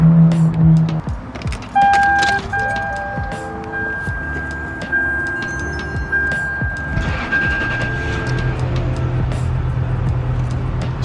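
A Lexus LS430 V8 with freshly replaced spark plugs cranks and starts after a jingle of keys, then settles into a steady, close idle with a faint whine running through it.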